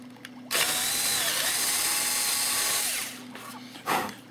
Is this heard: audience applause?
no